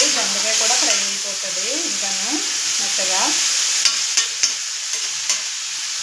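Ivy gourd pieces fry with tomato in a pan, a steady close sizzle under stirring, with a few sharp scrapes or clinks toward the end.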